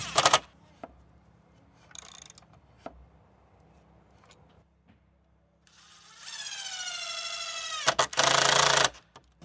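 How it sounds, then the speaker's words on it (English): A DEWALT FLEXVOLT driver sinking a lag bolt and a screw into a wooden lawn chair, with short clicks and handling taps leading into a rising motor whine under load, then a final loud burst. "This time I'll drive the lag bolt in as well and then finish it off with one more screw."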